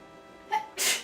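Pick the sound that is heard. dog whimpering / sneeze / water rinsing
sneeze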